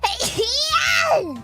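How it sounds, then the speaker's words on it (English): A voice gives a sharp sneeze with a gasping intake, close and loud, followed by a drawn-out high-pitched vocal sound. "I sneezed."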